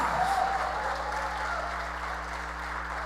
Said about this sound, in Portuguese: Se você ama Jesus, aplauda mais forte a Ele